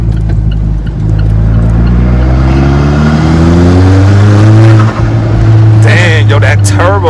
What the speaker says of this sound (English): Yo, that turbo though.